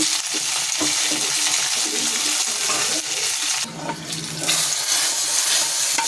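Mustard seeds, dried chilies, curry leaves and hing sizzle and crackle in hot oil for a sambar dal tadka, a loud continuous frying hiss with a brief dip midway.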